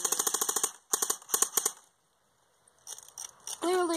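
A Lancer Tactical LT12T or AK47 airsoft gun fires sharp, close clicking shots in quick bursts, a pause follows, then scattered shots and a voice at the end.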